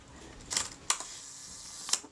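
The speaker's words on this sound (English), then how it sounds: "Let's try the shutter. It's fine on B." A Kodak Retina II type 122 camera under repair fires its shutter at one second: a soft click, then a crisp opening snap, and the closing click about a second later, all close and clear.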